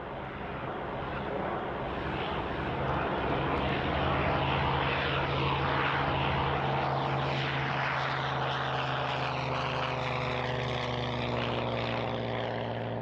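A Messerschmitt Bf 109 fighter plane flies with a steady, loud piston engine and propeller drone that holds throughout with a slight swell in pitch, no voices present.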